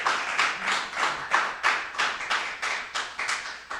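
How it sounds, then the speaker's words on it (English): People clap at a city council meeting after a motion is raised, a fairly close, rhythmic run of roughly a dozen distinct claps with no talking over them. "I couldn't speak over everyone that's clapping"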